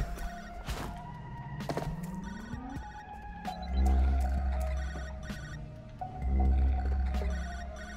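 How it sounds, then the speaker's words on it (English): Telephone ringing in the High On Life video game, a repeated old-style bell ring mixed with game thumps, a rising tone and heavy low rumbles, fairly loud throughout with no talking. "Where's the phone coming from?"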